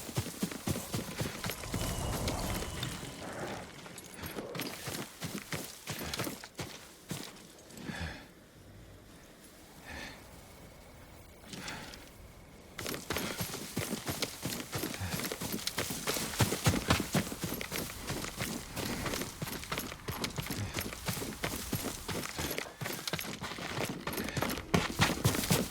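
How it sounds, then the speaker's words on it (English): Hooves of Yuriko's horse in Ghost of Tsushima clip-clop in a steady rhythm, briefly dropping away before resuming with an occasional snort. "Yuriko's horse."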